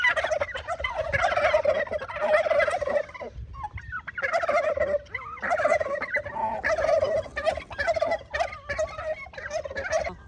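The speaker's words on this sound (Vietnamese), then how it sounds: "Thấy cái chuồng kia, rồi mấy em gà đây." Free-range farm turkeys gobble near a coop, repeated bursts of loud gobbling calls coming in close succession with only short pauses between them, with no talk.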